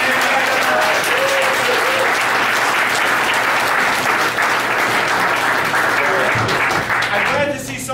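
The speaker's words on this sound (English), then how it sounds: "let's have a big round of applause for our kitchen crew" Loud round of applause for the kitchen crew at an Easter fast-breaking gathering of a community society, a dense sustained clapping with voices murmuring underneath, fading slightly at the end.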